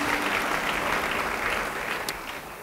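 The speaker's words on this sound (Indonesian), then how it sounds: "Beri tepuk tangan yang baik bagi dia." A church congregation claps together during a sermon, producing a dense, even wash of applause that holds steady for a couple of seconds before thinning slightly at the end, with no talking on top.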